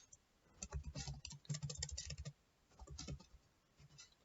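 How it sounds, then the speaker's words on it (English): Typing on a computer keyboard, entering an email address: quiet, quick bursts of soft key clicks with short pauses between runs, close and alone. "I'm going to type this email address."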